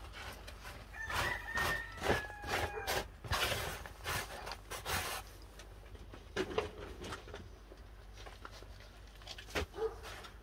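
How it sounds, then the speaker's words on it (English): A rooster crows faintly in the distance a couple of times on an off-grid farm on a spring morning, with scattered birdsong and a dog barking somewhere far off in a quiet outdoor setting. "You know, cockerels waking up, nobody about."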